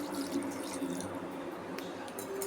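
A small amount of water is poured over mutton chops with ginger-garlic paste in a cooking pot, giving a faint, steady trickling and dripping sound with light splashes in a quiet kitchen.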